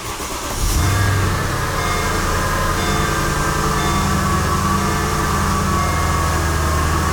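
Mercedes SL550 V8 engine fires up with a sharp start, then settles into a smooth, steady idle that runs evenly and continuously close by.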